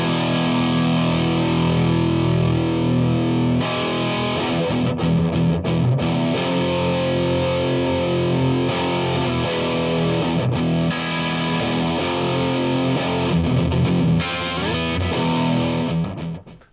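Heavily distorted electric guitar, a Charvel on its bridge pickup through a high-gain amp with light reverb, plays big chords with a bright, biting tone, ringing loudly for most of the stretch before cutting off.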